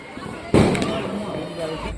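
A Diwali firecracker bursts once with a loud, sharp bang, followed by a rumbling decay, while people talk around it outdoors.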